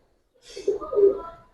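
A tota pigeon gives a single soft, low, rolling coo at close range. It swells and fades over about a second in an otherwise quiet setting.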